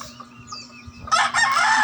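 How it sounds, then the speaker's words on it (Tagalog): Chickens clucking nearby on a backyard farm, with quiet scattered clucks at first and then a louder burst of squawking and crowing toward the end. "Ayan po ang mga manok niya"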